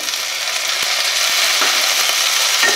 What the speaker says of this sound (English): At this point of time, I will add chopped tomato